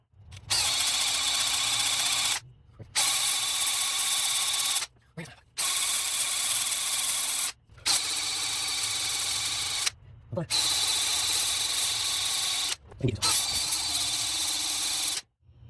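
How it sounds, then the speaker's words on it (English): Drill-driven ball hone working the cylinders of a Jeep 4.0 engine during an in-frame rebuild, running in five steady bursts of several seconds each, separated by short pauses, close and loud. "we're gonna get the dingleberry hone out and go ahead and hone all these really quickly"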